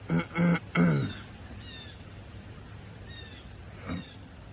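Three harsh caws from a crow ring out in quick succession at a lake in New Jersey, followed by quiet and one fainter call near the end.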